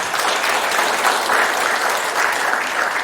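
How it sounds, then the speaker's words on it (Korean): Steady, dense applause from an audience at a Korean political meeting with a presidential hopeful, continuous and fairly close for a few seconds with no pause. "우리 최문순 지사님한테 박수를 한번 부탁드립니다."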